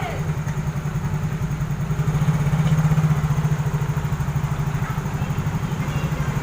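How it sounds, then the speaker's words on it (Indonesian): A Yamaha Mio GT scooter engine runs steadily after its starter fault has been fixed, with a close, continuous idle holding an even low pulsing rhythm throughout. "jadi motor ini sudah hidup starternya"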